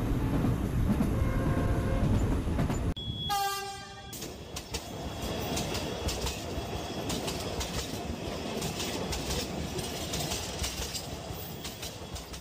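A train runs steadily along the rails with a continuous rumble, and a short horn blast sounds near the start before the rolling noise carries on alone.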